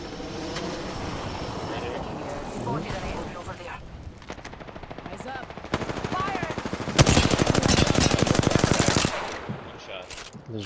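Gunfire in Apex Legends erupts in repeated automatic bursts, building to a loud, sustained rapid-fire stream near the end, with voices in the game talking over the shooting.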